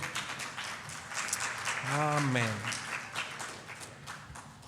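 A church congregation claps together in an offering of applause to the Lord, a rapid, lively patter of many hands at moderate distance, with a voice calling out over it.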